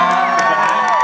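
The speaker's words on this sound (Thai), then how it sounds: "ขอเสียงปรบมือให้กับคุณน้ำชู" At a fan meet-up in a Bangkok shopping mall, a crowd claps, cheers and shrieks loudly for an artist, with excited high-pitched whoops from young fans rising over the continuous roar.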